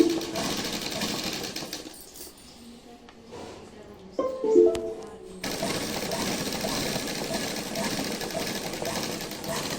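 A sewing machine stitches a shirt collar in a boutique, its rapid mechanical chatter running loud at the start, pausing briefly with quieter handling noises, then resuming steadily to the end.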